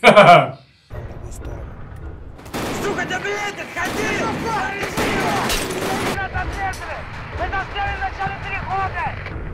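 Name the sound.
gunfire in the video game Escape From Tarkov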